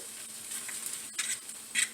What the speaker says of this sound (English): And then just stir those in there until they're cooked through.